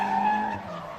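Drift car sliding through a transition during a grassroots drifting qualifying round, a continuous loud tire skid and engine scream held steady for about a second, close and alone.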